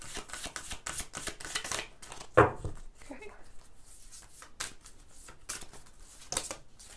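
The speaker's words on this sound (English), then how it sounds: "let's give this another shuffle." A deck of tarot cards is shuffled by hand in a rapid run of crisp riffling flutters and slaps, close and fairly quiet, with a sharper knock partway through.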